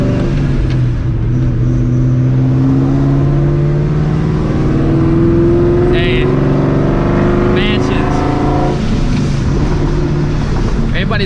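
A straight-piped, supercharged 2004 Ford Mustang GT roars loud and steady from the driver's seat, its drone climbing gradually under heavy wind buffeting as the driver speaks briefly.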